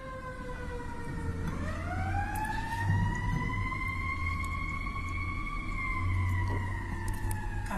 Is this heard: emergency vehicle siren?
yes